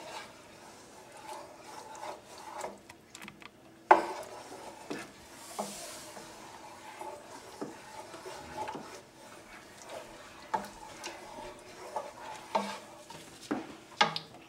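Butter chicken sauce being stirred in a pan, a soft continuous scraping and rubbing with occasional sharper knocks of the utensil against the pan, close and fairly quiet, with no talking.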